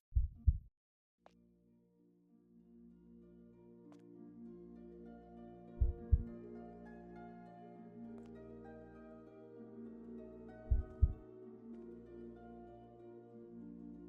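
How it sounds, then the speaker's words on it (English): Heartbeat in the video game Hitman: Blood Money, slow deep double thumps spaced several seconds apart over a quiet low hum, muffled and close. "I hear the heartbeat."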